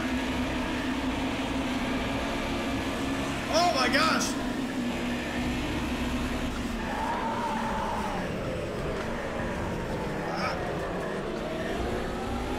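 Race cars in Project Cars 2 crowd together at the start, their engines droning constantly with tires squealing now and then. Someone talks briefly and exclaims over the noise.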